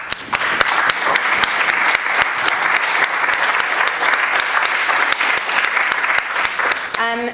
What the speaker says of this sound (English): If we could all show our appreciation by giving them a round of applause.